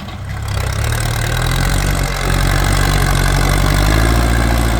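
A Kubota L5018 tractor fitted with a front blade reinforced with 4-hun steel runs while pushing soil, its diesel engine giving a loud, steady low rumble that briefly dips and then rises slightly in effort.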